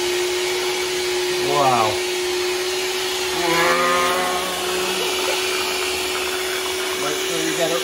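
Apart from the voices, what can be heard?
electric whisk mixing Yorkshire pudding batter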